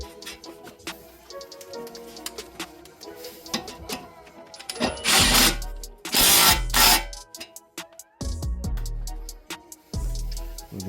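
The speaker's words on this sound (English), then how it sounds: "Get the crown nut on there." Clanking metal tool work on the upper ball joint of a Toyota Aristo JZS147 suspension while fitting the crown nut, with sharp knocks and bursts of scraping and rattling at close range.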